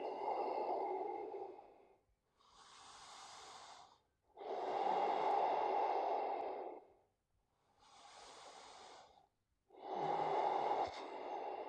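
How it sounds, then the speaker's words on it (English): Slow, deep yoga breaths: long, audible inhales and exhales taken while holding a posture, close to the microphone, alternating in a steady rhythm with short quiet gaps between them. "And we're breathing into the posture"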